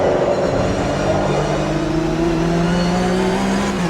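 A Porsche Carrera Cup race car in the Automobilista 2 racing game, lapping Kyalami, produces a loud, continuous engine drone with rising and falling pitch as it revs through gear changes, close and steady throughout.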